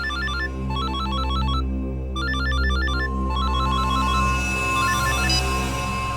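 A repeating electronic ringtone melody plays in bursts over a steady humming backing, a synthetic phone ring with no one speaking.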